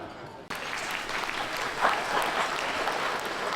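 An audience claps steadily at an evening restaurant event, with dense, continuous applause rising after a brief dip and holding at a moderate level.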